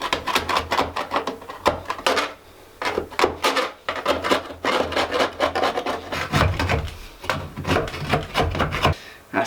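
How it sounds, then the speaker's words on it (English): Sharp edge scraping upward along a wooden door frame, a series of close, rough rasping strokes in quick repeated bursts with brief pauses between them. "I've been simply just taking this sharp edge on here and just sort of scraping it"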